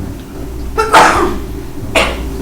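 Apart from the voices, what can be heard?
a sneeze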